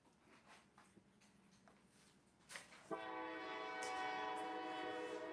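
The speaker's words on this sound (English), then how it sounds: "I hear that train a coming." A train horn sounds loud and sustained in the second half, with a steady, rumbling passing train beneath it, heard outdoors during an estate sale.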